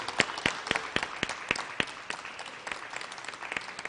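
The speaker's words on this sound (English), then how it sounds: "And I think they deserve a round of applause." Audience members clap for translation prize winners at the Romain Rolland Translation Prize announcement, several sharp, distinct claps standing out over a lighter patter that thins toward the end.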